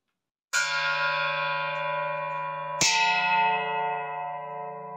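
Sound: ringing a spent artillery shell casing from Mariupol like a bell

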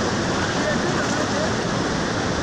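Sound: rushing Apurímac river and small waterfall

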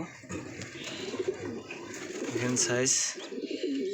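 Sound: pigeons cooing

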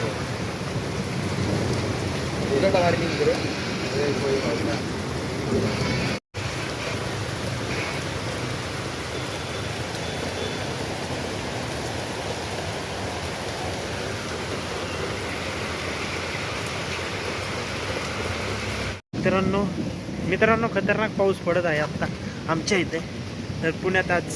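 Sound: heavy rain

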